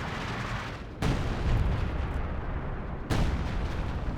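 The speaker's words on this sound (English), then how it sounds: "Nice UC of the red flare artillery ability" Red flare artillery ability firing in a competitive video game match, two heavy booming blasts about two seconds apart, each cutting in sharply over a dense, rumbling wash of battle noise.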